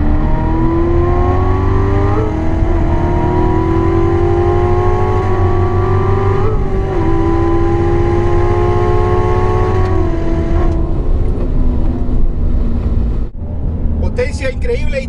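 A 2015 Corvette Z06 accelerates hard on a race track at Mountain Springs, Nevada, its engine note climbing steadily through the gears with brief dips at each shift, loud and continuous from inside the car.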